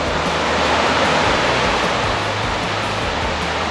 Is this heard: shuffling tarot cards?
no